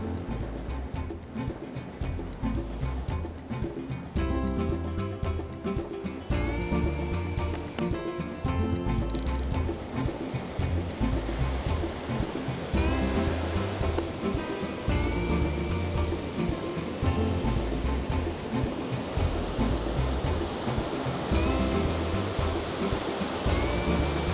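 Ocean surf breaks steadily on a fishing beach, a loud, continuous rushing roar that swells and washes without pause.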